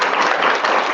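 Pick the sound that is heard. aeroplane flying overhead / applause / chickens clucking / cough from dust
applause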